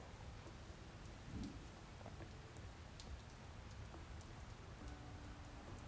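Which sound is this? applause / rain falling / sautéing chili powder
rain falling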